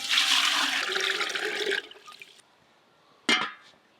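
Water gushing and splashing into a cooking pot for lemon rice in a home kitchen, a strong pour that stops abruptly, followed by a short second splash.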